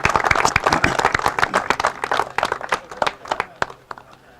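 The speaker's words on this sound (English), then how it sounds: "please give him again a big round of applause" Audience clapping at a Helsinki T20 cricket league closing ceremony, a burst of close, sharp handclaps that thins out into scattered individual claps, with faint voices underneath.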